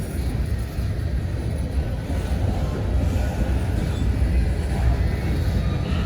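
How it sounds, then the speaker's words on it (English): A long mixed freight train with tank cars rolls steadily past at close range, a continuous loud rumble of wheels and cars with no talk. "I see the end of the train coming. This is a long one,"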